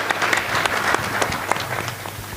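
Steady applause from a seated audience at a live Hindi poetry recital, a dense wash of clapping hands heard up close throughout.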